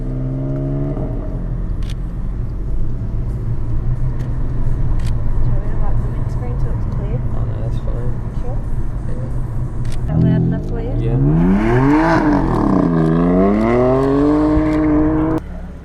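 Cars driving past on a road where a BMW M4 is being photographed, a steady engine drone that swells into a louder revving, accelerating vehicle near the end, with people talking over it.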